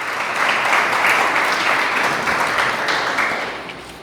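A church congregation breaks into applause, a full, even burst of many hands clapping that holds steady for a few seconds and then tapers off near the end.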